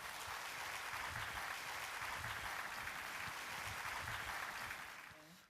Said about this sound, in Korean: 여러분, 나오실 때 뜨거운 박수로 맞아주시기 바랍니다